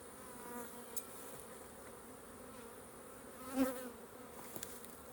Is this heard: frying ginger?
no